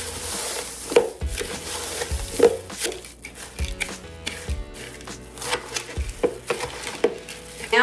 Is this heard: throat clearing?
no